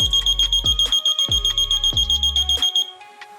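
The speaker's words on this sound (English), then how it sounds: "the buzzer will start beeping" A loud electronic buzzer in a light-sensor (LDR) alarm circuit beeps in rapid, regular pulses, a piercing high tone repeating steadily for about three seconds, with low thumps underneath.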